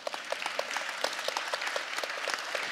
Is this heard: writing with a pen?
no